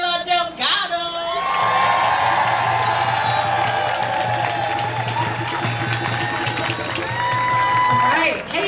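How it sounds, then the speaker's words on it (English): A large crowd at an Oakland teacher strike rally claps, cheers and whoops loudly and steadily for several seconds, with shouts rising above the applause. "Please make a round of applause and make a lot of noise for Chayla Delgado."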